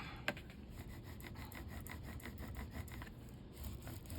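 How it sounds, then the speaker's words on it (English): Foil is rubbed onto a Christmas card laid flat on a table, a soft repeated scratchy rubbing in short even strokes after one sharp tap, fairly quiet with no talk. "I'm going to put this down flat so I can rub on it."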